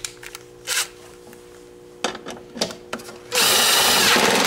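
A power tool drives a 10mm bolt with a washer on a cold air intake in a BMW E39's engine bay. Short clicks and taps come first, then a loud, close, sustained whirring burst.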